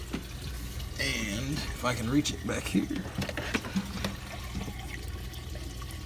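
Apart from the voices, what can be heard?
water flowing from aquarium drip system into fish tank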